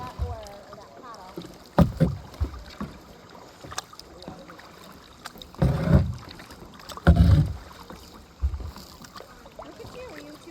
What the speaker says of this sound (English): Look at you two are kayaking.